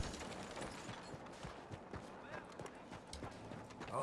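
Horse hooves clip-clop in a video game, a steady rhythmic trot of hoofbeats at moderate distance, fairly faint, with other game sounds in the background.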